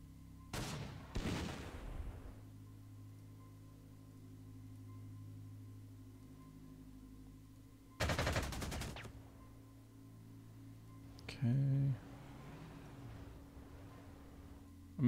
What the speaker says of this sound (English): High ground autocannons against tanks on a desert floor